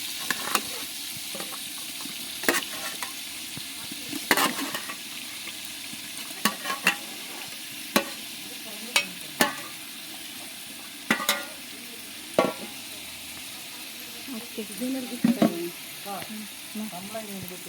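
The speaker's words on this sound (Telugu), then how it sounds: "ఇప్పుడు ఈ మసాలా కొంచెం ఏగింది కదా సో ఇందులో మనం చికెన్ వేసుకుందాం కొంచెం బాయిల్ చేసుకున్న చికెన్ నాటుకోడిని వేసుకుందాం" Boiled country chicken (natu kodi) tossed into browned masala for Nellore-style biryani, with a soft sizzle under repeated sharp clinks and scrapes of a spoon against the pot, and faint voices in the background.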